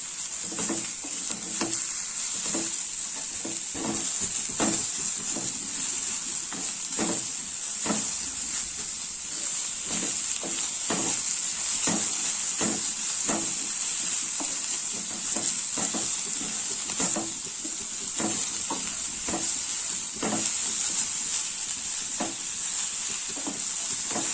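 Fenugreek leaves, mint and coriander frying in a pan, a steady loud sizzle and hiss running throughout with regular stirring scrapes and clinks, no one talking.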